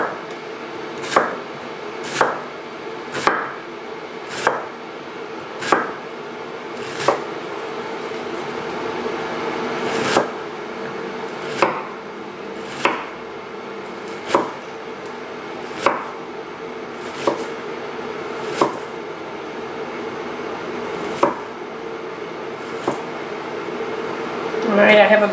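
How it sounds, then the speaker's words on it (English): A knife slices a halved red onion into thin slices on a cutting board, giving about seventeen crisp, evenly spaced knocks, close and distinct over a soft background hum. "I'm going to slice each half into thin slices."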